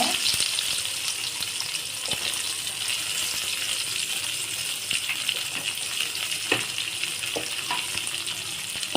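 Onions sizzle steadily in hot oil in a pan for brinjal gravy, with occasional scrapes and taps as a spoon stirs them. No one speaks.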